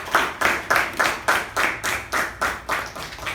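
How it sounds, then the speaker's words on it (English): An audience applauds at a Toastmasters club meeting for a speaker and evaluator, about ten evenly spaced claps in a loud, close rhythmic pattern with no talking. "can we have a huge round of applause for the speaker and the evaluator?"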